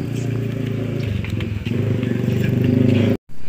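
Engine of a 1944 Jeep Willys replica running just after starting, a loud steady rumbling idle with regular pulses and a clattery edge, cutting off abruptly near the end.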